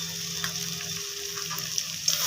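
Tomato and potato pieces fry in a pan with turmeric, giving a steady close sizzle with light crackles and a few soft stirring scrapes.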